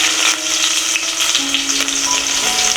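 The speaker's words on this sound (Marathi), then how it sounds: "आता हा जो ठेचलेला लसूण आहे ना सर्वात अगोदर त्याला तेलात फ्राय करायचं आहे" Crushed garlic sizzles steadily in hot oil in a pan, a loud, bright, continuous frying hiss with faint stirring scrapes and no voices.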